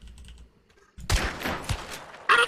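Gunfire bursts from the Hunt Showdown video game, a loud cluster of shots after a quiet moment, followed by a second sharp burst near the end.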